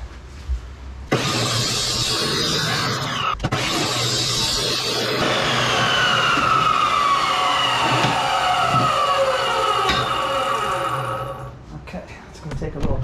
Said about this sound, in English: Now we're just gonna cut it back to the 28 inch mark, which is what I want it to be from the plate up to the front bumper